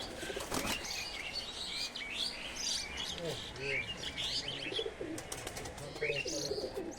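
A Teddy male pigeon, a high-flying breed, is let go and beats its wings in rapid flapping bursts close by, with other birds chirping and cooing around it.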